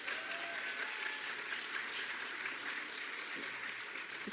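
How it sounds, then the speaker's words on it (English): A crowd at a cannabis industry speaker series gives steady applause, a continuous even patter of clapping heard fairly faintly, as if from a distance in a large room. "Everybody give her a round of applause."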